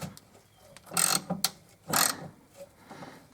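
A wrench turns a nut on the rear roll bar of a 2001 SLK, making a few distinct ratcheting clicks and metallic bursts separated by pauses, up close and without talk.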